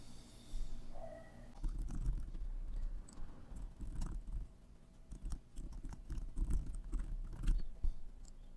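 Keys on a computer keyboard are tapped in quick irregular bursts while a form is filled in, faint and close, with short pauses between clusters of clicks.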